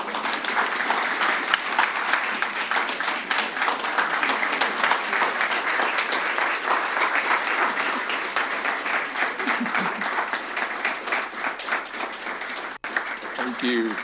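Sustained loud applause from the audience at the Saginaw African Cultural Festival welcome ceremony for a Ghana delegation, continuous thick clapping for the whole stretch, with brief voices surfacing near the end.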